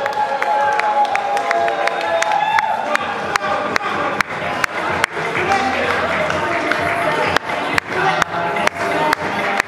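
Applause and cheering from a crowd at a Congolese fashion show in Paris, with sharp scattered claps and shouts, while a voice talks over the crowd noise.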